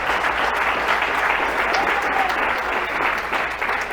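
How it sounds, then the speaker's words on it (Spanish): A church congregation applauds during a Spanish-language sermon, a dense, steady roar of many hands clapping at full strength for about four seconds. "Dale el aplauso al Señor."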